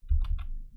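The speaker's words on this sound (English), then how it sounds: "Let me just use my trusted keyboard here. Sorry for the little clicky noise." A short burst of keyboard clicks, a couple of quick taps close to the microphone.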